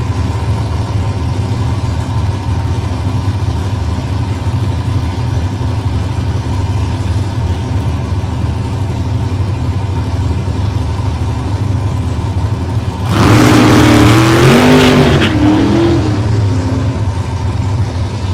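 A drag racing car at a Ballarat drag strip launches hard off the start line, engine surging loud from about thirteen seconds as the tyres spin on the asphalt, after a long stretch of steady background engine rumble.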